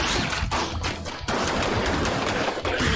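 Rapid automatic gunfire from weapons in the video game ScourgeBringer, a dense continuous burst of shots with brief dips, loud and up close with no speech.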